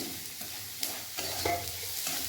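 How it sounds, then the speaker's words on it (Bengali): Corn frying in a little oil with cumin and salt, a soft steady sizzle with occasional stirring scrapes and clicks, close but fairly quiet, no voices. "আর দেখুন এখানটায় বেশ ফ্রাই হয়ে গেছে অল্প তেলে।"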